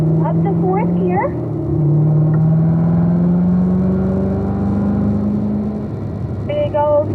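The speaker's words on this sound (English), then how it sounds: "Squeeze into the power. Up to 4th gear." Car engine on a race track pulling hard and rising in pitch, then dropping as it shifts up into fourth gear and climbing again, loud and close, with a voice speaking briefly over it.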